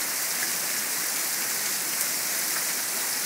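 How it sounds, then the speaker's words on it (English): Light rain falling outdoors among trees, a steady, even hiss of drops that fills the whole stretch without pause or voices. "Started to rain just a little bit."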